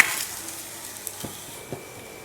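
Vanjaram seer fish coated in masala shallow-fries in a pan, with a soft steady sizzle, a few brief clinks and taps from a utensil, and no speech.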